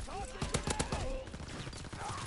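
Several sharp gunshot bursts in Call of Duty crack in quick succession, followed by rattling fire and scattered reports over a noisy battle background.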